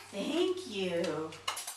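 A spoon and dishes are unloaded from a dishwasher, with light clinks and a sharper clatter near the end, while voices talk over most of it.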